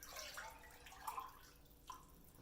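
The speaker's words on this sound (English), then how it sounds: "I just take and put the broth into mason jars" Homemade turkey bone broth is poured into quart mason jars. It sounds as a quiet liquid trickle with a few small splashes and drips, fairly close, with no talking.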